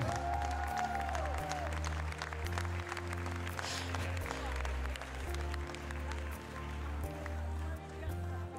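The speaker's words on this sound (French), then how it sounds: "On peut applaudir Mathieu" Crowd applause rolls around the ring at a Gasconne des Pyrénées cattle competition, a continuous clapping texture mixed under loud thumping music and voices.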